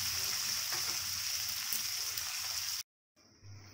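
Tomatoes and spices fry in a pan for a kadai paneer gravy, a soft continuous sizzle up close that cuts out briefly near the end, then resumes faintly.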